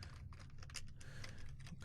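Rapid clicking of typing on a computer keyboard, a steady run of close, quiet keystrokes with no talking.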